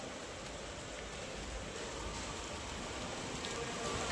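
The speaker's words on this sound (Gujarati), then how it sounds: "અમારે તો અષાઢી બીજનો મસ્ત મજાનો વરસાદ આવી ગયો છે" Steady rain falls during the Ashadhi Bij monsoon, a soft continuous hiss of drops on surfaces, faint and even throughout with no voices.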